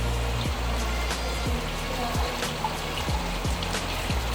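Running water rinses something in a garden setting, a steady close splashing trickle that flows without a break and carries no speech.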